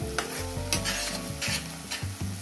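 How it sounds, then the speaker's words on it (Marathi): Masala being sautéed in a pan for urad dal, with steady stirring scrapes and a continuous close sizzle in repeating rhythmic strokes, no talk. "आपण मसाला छान परतून घेऊ"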